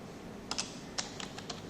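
A handful of distinct keystrokes on a computer keyboard entering a compile command, sparse clicks spaced irregularly over a quiet room background.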